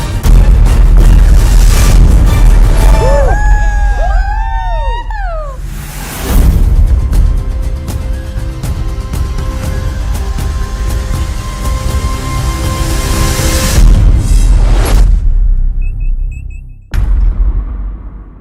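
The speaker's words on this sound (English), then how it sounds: "Fire phasers. Fire and phasers, Captain. Tactical armed torpedoes. Arming them now. Fire." Phasers and torpedoes firing in the Artemis Space Bridge Simulator video game: loud synthetic weapon blasts with sweeping, bending electronic tones, heavy low rumbling booms and sustained roaring fire, ending abruptly.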